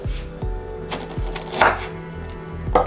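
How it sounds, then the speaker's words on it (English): A knife chops through lemongrass on a cutting board with several firm, thudding cuts at irregular intervals, close and clear with no voices, while preparing a vegan homemade sukiyaki. "I'm going to start with this piece of lemongrass you see here. I'm going to cut it in half and add it to the pot."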